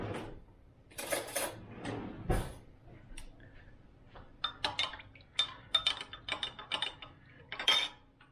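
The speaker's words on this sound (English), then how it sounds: "So I'll stir that up." A homemade hand sanitizer mixture stirred in a cup, giving a close run of light clinks and taps at an uneven pace, with a few louder knocks and no speech.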